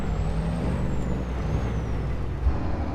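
A pickup truck's engine labors under a heavy load during a wheat harvest near Marxville, Wisconsin, a loud, steady low rumble with a continuous drone and a faint whine drifting above it.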